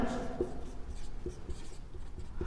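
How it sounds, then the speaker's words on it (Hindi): Chalk or marker writing on a board in a chemistry class: quiet, close, irregular tapping and scratching strokes with a faint voice underneath. "उसके बाद में हम नोट नंबर 1 लिखते हैं।"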